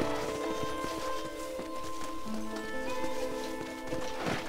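A horse in the video game Red Dead Redemption, with soft hoof clip-clops and movement over a low ambient game soundscape and tonal background hum, fairly faint throughout.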